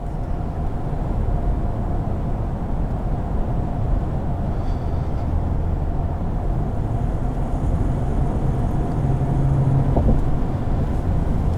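A 2018 Ford F-150 Lariat Power Stroke diesel with a 10-speed gearbox drones steadily from the cab while its turbo spools up, a continuous low rumble with a faint whine that grows slightly toward the end.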